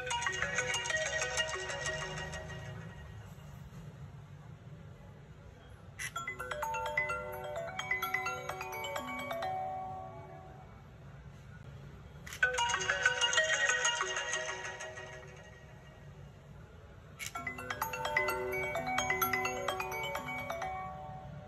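An iPhone 13 ringtone playing from its bottom speaker after a no-sound repair, a bright repeating melodic phrase in bursts of about five seconds with short gaps, fairly loud and close, with no talking.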